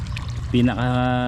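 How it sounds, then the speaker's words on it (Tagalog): Water rushes out of a large hose fed from a stream, starting abruptly partway through as a steady, close pouring gush over low background hum. "Ayan, dalawa yung ginagamit nating pinagkukuha na nating tubig. Ito galing dun sa sapa, itong malaking hose."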